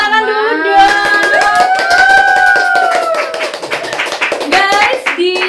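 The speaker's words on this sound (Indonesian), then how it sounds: "Tepuk tangan dulu dong." Hand clapping from a small audience at an Indonesian podcast recording about vertical gardens, with overlapping voices and laughter on top of a steady patter of claps throughout.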